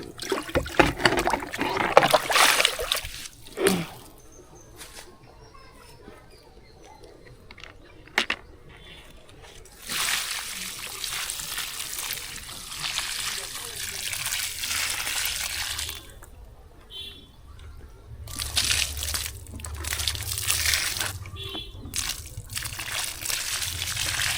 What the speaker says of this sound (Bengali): বালতি নিয়ে আসি পুকুর থেকে জল নেব তারপর জল দেব